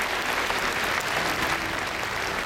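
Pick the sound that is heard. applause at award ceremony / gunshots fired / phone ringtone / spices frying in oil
applause at award ceremony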